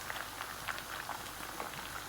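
Mustard oil foams and bubbles in a pan while kofta cooks, giving a steady close fizzing and crackling with small irregular pops throughout.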